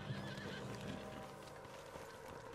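A horse in Red Dead Redemption 2 gives a brief whinny near the Canadian border, heard within a dense game soundscape with hoof clip-clops and ambient noise.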